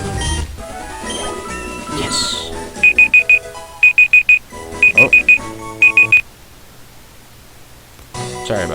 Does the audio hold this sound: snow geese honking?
no